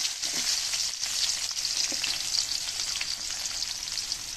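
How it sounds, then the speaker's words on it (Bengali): Onions and whole spices, including white cinnamon, sizzle and fry steadily in a pan for a chicken curry, a dense continuous crackle with occasional stirring clinks, close and fairly loud with no talking. "সাদা গোটা দারচিনি এগুলো দিলাম প্রথমে, তারপরে পেঁয়াজ দিলাম,"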